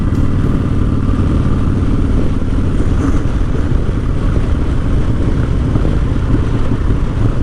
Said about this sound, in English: Bike runs, you can hear it popping. She's running lean, and she's running hot